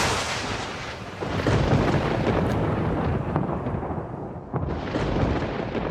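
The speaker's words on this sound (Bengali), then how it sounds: "এমন সময় পাশের তাল গাছগুলোতে একটা জোরে বাজ" Loud thunder crashing onto palm trees beside a riverside path, a continuous rumbling roar with a brief dip partway through before swelling back, used as a dramatic story sound effect with no voices.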